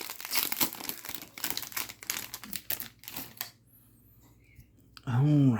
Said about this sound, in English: Head on to the next pack opening.